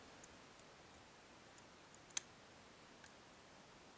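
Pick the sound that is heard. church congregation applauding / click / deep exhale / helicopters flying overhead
click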